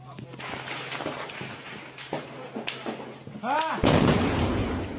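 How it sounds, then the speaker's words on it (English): Artillery fire lands close to front-line positions near Bakhmut in Ukraine: sharp cracks and thuds over a low background rumble, then a heavy close blast with a sustained roaring wash of debris and noise. "We now hear another explosion landing very close by."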